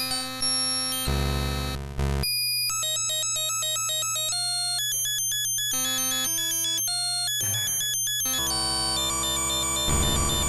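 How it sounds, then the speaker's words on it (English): Glitch Pokémon Missing No's battle cry in Pokémon Yellow: a long, harsh run of chiptune beeps and buzzing tones that change pitch in abrupt blocks over a constant hum, loud and unbroken. "his battle cry is probably the longest one I've ever heard"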